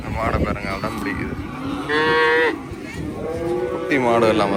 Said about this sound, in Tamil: என்ன நிறைய மாடுகள் நிற்கிறபடியா சவுண்ட் கொஞ்சம் அப்படி இருக்கும்.